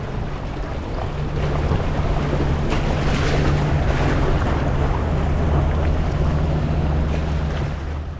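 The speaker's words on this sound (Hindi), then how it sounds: "बहुत ही ऊपर से आ रही है वाटरफॉल, ऊपर से ग्लेशियर्स का पानी आ रहा है" Glacier-fed waterfall beside the mountain road from Naran toward Babusar Top, a loud steady roar of rushing water with a broadband wash and a low rumble, constant throughout with no voices.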